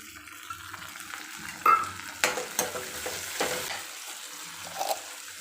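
Potatoes, tomato and chili fry in a pan while being stirred, with soft background sizzle broken by several distinct scraping, clattering stirs, loud and close, spaced irregularly.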